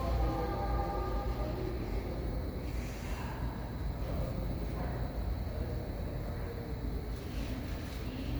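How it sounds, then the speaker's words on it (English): A PATCO commuter train approaches a station platform, a loud continuous low rumble and rolling rail noise with mechanical whine, steady and close throughout. "You see a train coming?"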